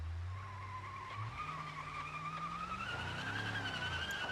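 An SUV's tires spin and squeal on bumpy terrain under throttle, engine droning and rising in pitch while the wheels scrabble for grip, fairly faint and continuous with no speech.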